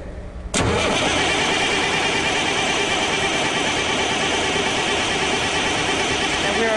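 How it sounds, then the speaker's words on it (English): A car engine starts as its starter motor cranks during a cranking-circuit voltage drop test: after a brief quiet moment, a sudden onset leads into a loud, steady, continuous engine drone that holds to the end. "we will crank the engine."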